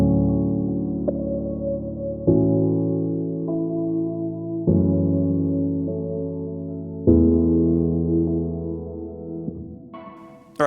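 Piano chords layered with electronic synth instruments from the Output Signal library, sustained pulsing tones changing every couple of seconds in a steady progression, played alone without voices.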